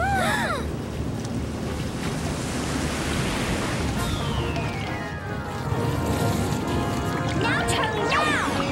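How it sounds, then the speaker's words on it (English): A cartoon plumbing scene where water surges and rushes through pipes, a loud, steady whooshing roar laced with whistling, sliding effects and some voices. "Let's run the water, see if that blockage is still there."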